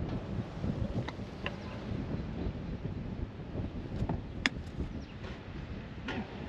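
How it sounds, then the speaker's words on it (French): Wind gusting across a golf course in southern Portugal, a steady low rumble of buffeting microphone noise with a few faint ticking clicks scattered through it, no talking. "Sacré parcours, il y a du vent."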